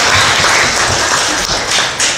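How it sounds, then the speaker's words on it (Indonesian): A group claps together at a church youth day celebration, a dense burst of close, loud clapping with some thumps, running steadily and alone without talk. "Tepuk tangan dulu."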